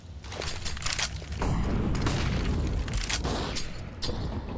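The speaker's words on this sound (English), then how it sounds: "nice nade from Nico" Grenade blast in CS:GO on the Vertigo map during a professional match, a booming explosion amid rattling gunfire and game mechanics, loud and sustained.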